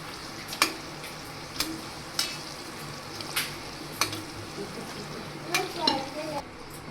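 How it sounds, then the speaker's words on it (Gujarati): Semolina pani puri puris fry in medium-hot oil with a low, continuous sizzle. Sharp spoon or slotted-ladle taps and scrapes against the pan recur about every second. "બંને સાઈડથી ક્રિસ્પી થાય ત્યાં સુધી આપણે તેને તળી લેશું"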